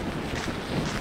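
Strong outdoor wind in the town of Arviat buffeting a microphone fitted with a windshield, a dense continuous roar with low rumbling, loud and unbroken.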